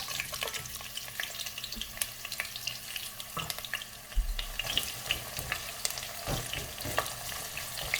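Onions sizzle and crackle in a hot pan of spiced meat and vegetables for a South African beef bunny chow, with steady frying hiss broken by scraping stirs and a few sharper clatters, close and moderately loud.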